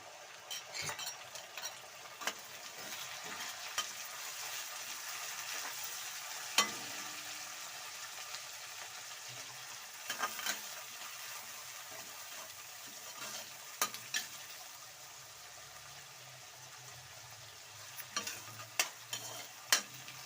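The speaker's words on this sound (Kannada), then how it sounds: "ಟೊಮೆಟೊ ಸ್ವಲ್ಪ ಫ್ರೈ ಆಗಲಿ" Onion and tomato frying in a pan for a vegetable rice dish, a steady soft sizzle with scattered stirring clicks and scrapes throughout, fairly faint, no talking.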